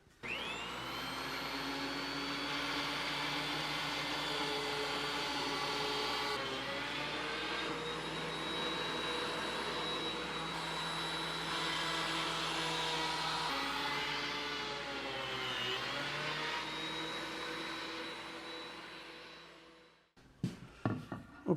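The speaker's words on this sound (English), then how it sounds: "I'm going to go ahead and run this through the thickness planer" A thickness planer smooths a glued-up wood panel, a loud, close, continuous high-pitched whine and roar with shifting pitch as the board feeds through, then cutting off abruptly near the end followed by a few clunks.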